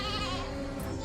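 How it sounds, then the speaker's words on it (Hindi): Sheep bleating softly in a steady, drawn-out call, close and continuous for about a second with a faint hiss of background noise. "अरे देखो तो कितने प्यार से मिमिया रही हैं"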